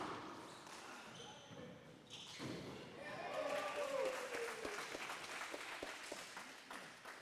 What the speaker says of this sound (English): A lot of clapping on this side of the sports club